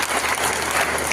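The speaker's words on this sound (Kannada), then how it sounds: "ಇನ್ನೊಂದು ದೊಡ್ಡ ಚಪ್ಪಾಳೆ, ಜೋರ ಚಪ್ಪಾಳೆ." An audience applauds steadily throughout at a Eicher tractor showroom event in Raibag, a dense close clapping crowd with no speech over it.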